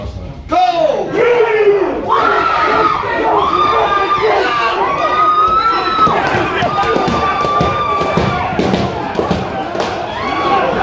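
Loud crowd shouting and yelling during a mass attack intervention training drill, continuous massed voices with rising cries and some thumps, close and dense throughout.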